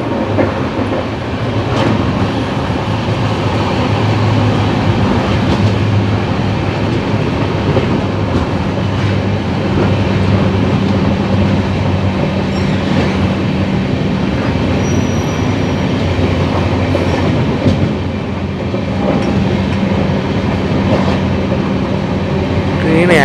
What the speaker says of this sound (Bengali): ট্রেন এখনো পর্যন্ত একবারও 130 স্পিড ধরেনি